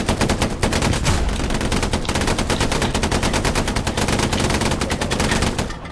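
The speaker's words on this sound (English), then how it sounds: "Fire the cannon." Cannon and gunfire in the World War II shooter game Hell Let Loose: a loud, dense stream of rapid automatic bursts and heavy shots that rattles on almost without pause, with no voices over it.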